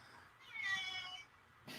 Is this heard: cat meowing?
yes